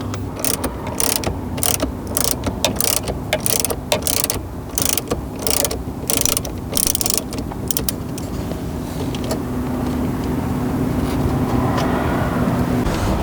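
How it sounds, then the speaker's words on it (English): A ratchet wrench clicks in quick repeated bursts while removing two bolts above the factory screen in a 2016-2021 Toyota Land Cruiser, the sharp ratcheting close and loud, then giving way to a steady mechanical hum. "We are now removing the two bolts on the top of the factory screen"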